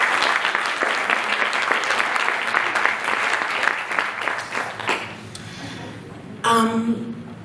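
Audience applause for Shahira at a women's peace panel, dense and steady for about five seconds before thinning out, with a brief burst of voices or noise near the end.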